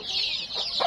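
Japanese Bantam chickens on a goat farm give a few short, close clucks, with two brief calls standing out near the end above a steady high background hiss.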